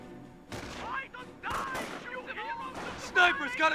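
A US sniper fires in Company of Heroes amid a busy battlefield, with several sharp shots and bursts at irregular intervals over layered combat noise and unit voice lines.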